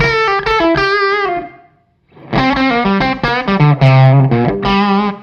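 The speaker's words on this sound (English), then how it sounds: "I'll put the gain back down to like 2 so you can hear that again, the cleaner sound with it" Electric guitar played through a Cornford Hellcat amp with the gain set low at about 2 for a cleaner tone: a short run of punchy sustained notes, a brief gap, then a longer phrase of bright ringing notes and chords, close and loud.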